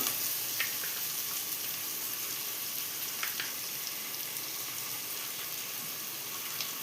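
Onions sizzle softly in a pan as ginger-garlic paste goes in for tomato rice, a steady faint crackle with a few brief clicks near 0.6 and 3.3 seconds, no talk.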